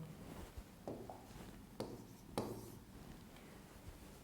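Chalk or marker writes notes on a board during a physics lecture on wave functions. A few faint scratches are broken by several sharp taps as strokes begin, quiet and close.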